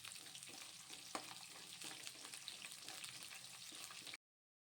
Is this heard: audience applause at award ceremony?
no